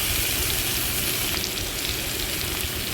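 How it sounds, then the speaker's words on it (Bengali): Bitter gourd sizzles in hot oil left over from frying prawns, a steady, dense crackle and hiss that carries on without a break, moderately loud and close, with no voices over it. "আর ওই তেলের মধ্যেই আমি উচ্ছেটাকে ভেজে নেব।"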